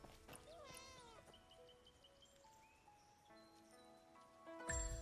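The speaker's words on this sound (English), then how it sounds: "Oh, cat, cat, cat. Pet the cat." A cat in the video game Where Winds Meet meows once, sharply and clearly, over quiet in-game ambience, with faint tonal game sounds and a brief louder noise near the end.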